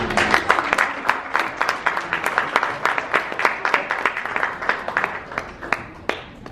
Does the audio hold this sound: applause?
yes